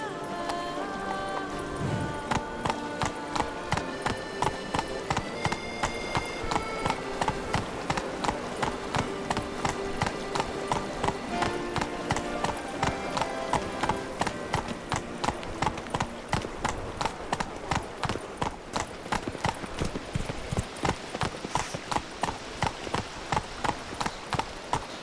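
Roach, a horse in The Witcher 3: Wild Hunt Blood and Wine, galloping in a fast, steady, even hoofbeat rhythm for a long stretch, close and prominent over ongoing orchestral music, with no talk.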